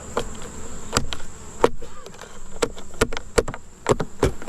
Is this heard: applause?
no